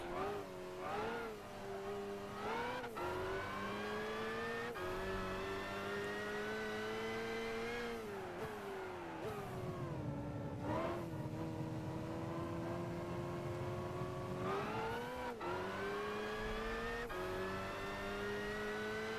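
A touring race car lapping the Nürburgring in Gran Turismo 5, its engine revving hard and steadily close-up, climbing through the gears with sharp shift drops and a brief lift mid-lap.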